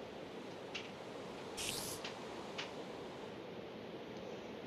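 Rain falls in the video game Minecraft as a steady, even hiss of soft patter, with a few brief brighter bursts layered on top and no speech.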